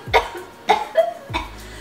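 Three short, sharp coughs spaced about half a second apart, fairly close and moderately loud, with no talking.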